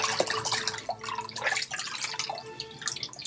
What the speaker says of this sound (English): We'll try to get it wrung out.